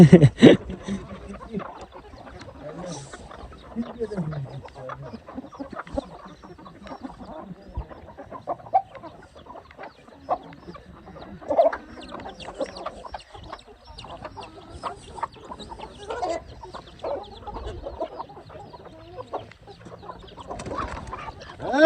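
Chickens and roosters on a family farm clucking near and far in irregular bursts, with occasional louder squawks and faint voices in the background.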